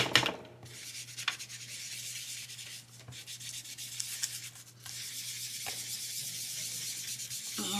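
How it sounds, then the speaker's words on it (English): Sanding block or file rubbing along the paper edges of a handmade Halloween card, a steady scratchy friction in short strokes with brief pauses, close and moderately loud, no voices. "Just do a little distressing over here."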